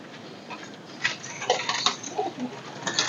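Royal teddy pigeons sit in a row at a bird setup, giving soft, low, intermittent coos close by, with faint rustling and light scuffing between the calls.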